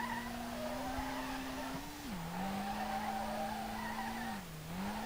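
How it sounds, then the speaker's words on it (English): A car drifts in the Street Legal Racing Redline video game, an R32 with a D1GP-spec setup, its engine humming steadily under a continuous loud tire squeal that dips in pitch twice as the slide shifts, with no talking. "I'm doing some of the wildest drifting I've ever done on this track."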